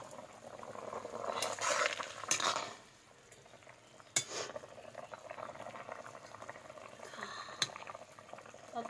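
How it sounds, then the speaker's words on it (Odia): Potatoes boiling in a cooking pot, a steady bubbling and simmering close by with occasional stirring clatters and a sharp utensil knock, with no talking. "ବର୍ତ୍ତମାନ ଆମର ଆଳୁ ଗୁଡ଼ା ସିଝିଗଲାଣି ଦେଖନ୍ତୁ।"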